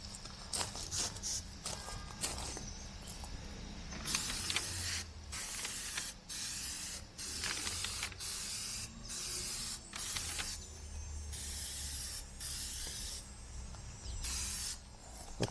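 Repeated hissing bursts of spray as a coat is applied to a car headlight, several pulses of a second or two each, close and steady, with brief pauses between them.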